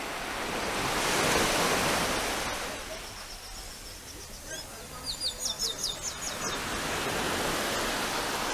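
High-tide waves wash ashore at Paynes Bay beach, a steady broad surf roar that swells and eases over several seconds, with faint bird chirps and wind in the background.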